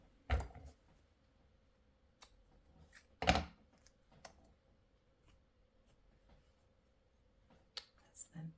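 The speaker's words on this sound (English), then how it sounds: "Let's cut the thread here." Scissors snip through thread during a paper craft project: one sharp, close cut stands out in a quiet room, with a few softer clicks and handling taps around it.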